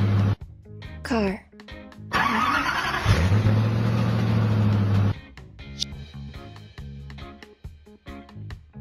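A car engine cranks to life and revs, settling into a loud, steady idle-like rumble for about three seconds before stopping abruptly, with brief speech before and scattered quiet sounds after.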